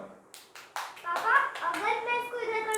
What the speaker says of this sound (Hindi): भाई तितिक्षा के लिए ताली बजा दीजिए एक बार।